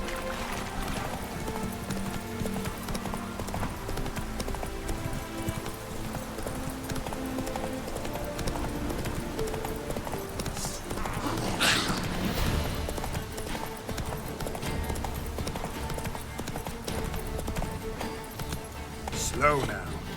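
A horse galloping in The Witcher 3, its hooves clip-clopping in a steady rhythm under game music and occasional speech, with a brief louder clatter partway through.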